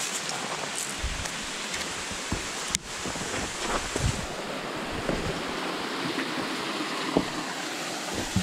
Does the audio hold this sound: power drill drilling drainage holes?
no